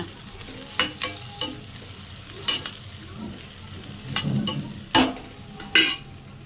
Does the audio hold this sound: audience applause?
no